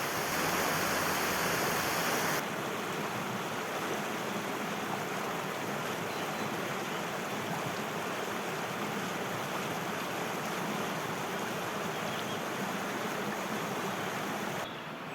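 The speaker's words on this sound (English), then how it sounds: "we walked up to Peak Cabin and found this lovely river" A lovely river near Peak Cavern above Castleton in the Peak District, rushing steadily and fairly close with an unbroken broad wash of water and no pauses.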